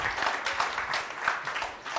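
Brief applause from the audience at a venture capital panel event, welcoming the moderator and panelists; a steady wash of clapping, moderately loud, with no talk.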